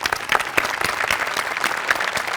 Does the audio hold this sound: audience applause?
yes